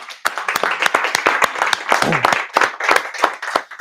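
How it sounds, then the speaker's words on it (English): A small group claps by hand at a roofing and real estate gathering, distinct close claps in an uneven rhythm lasting several seconds. "Just want to give him a round of applause"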